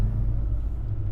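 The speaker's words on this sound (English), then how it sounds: "Straight away you notice that Boxer rumble, and it's pretty intoxicating" Low boxer-engine rumble from a Subaru Forester STI with a manual clutch, heard from inside the car as it pulls away, a steady deep drone that stays loud and even throughout.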